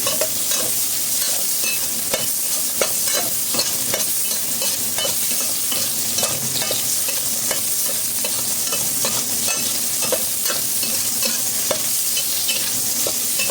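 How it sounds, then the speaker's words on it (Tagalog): Food sautéed quickly in a pan, a continuous loud sizzle broken by rapid, regular stirring scrapes and clacks of a utensil against the pan. "Mabilisang gisa lang ito."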